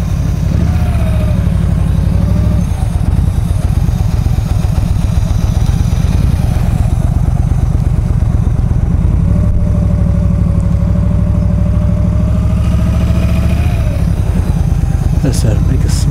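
A motorcycle engine being worked with the throttle while riding donuts at sunset, a loud sustained engine drone rising and falling in pitch, close up, with wind noise throughout.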